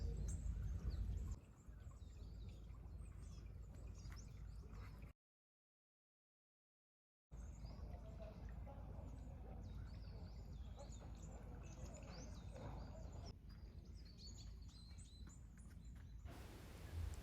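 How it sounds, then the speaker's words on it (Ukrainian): Faint birdsong chirps scattered through quiet outdoor ambience, with a brief gap of silence partway through. "Співають пташки, ліс, море, гори."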